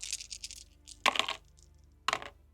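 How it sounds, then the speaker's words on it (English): Plastic attack dice rattle and clatter across a table during a Warcrow tabletop wargame attack. A quick run of light clicks comes first, then two sharper bursts of tumbling dice, close by and alone. "And you roll your attack dice as normal."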